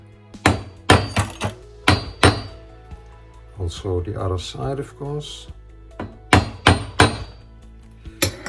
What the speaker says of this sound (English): lie the flat part of the spoke on a hard surface and hammer the head